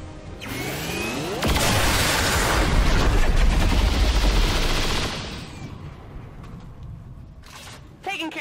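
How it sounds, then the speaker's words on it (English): XCOM 2 War of the Chosen combat erupts in a loud, sustained burst of automatic gunfire and blasts lasting several seconds, then fades into rumbling echoes, with a sharp shot near the end. "And then we just shoot it."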